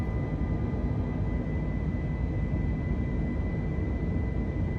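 Airliner engines climbing out in Microsoft Flight Simulator 2020, a steady broadband roar with a faint whine, constant and unbroken with no talk.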